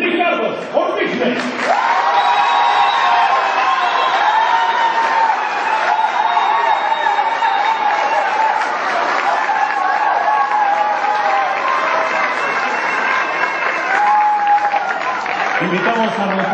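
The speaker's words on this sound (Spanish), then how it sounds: "recibamos con un fuerte aplauso a nuestro precandidato a presidente municipal" A large crowd greets a PRI pre-candidate for municipal president at a pre-campaign launch with sustained loud cheering, applause and whoops, and shouting voices run through the noise from start to finish.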